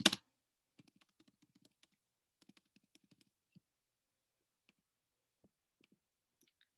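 Quiet typing on a computer keyboard: light, irregular clusters of key clicks after one sharp opening knock, then sparse taps tapering off.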